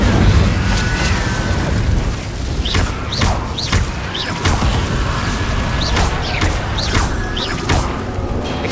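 Fire spell blasts from Hogwarts Legacy, a series of sharp bursting pops and whooshes repeating every half second or so over a dense, loud rumble of combat.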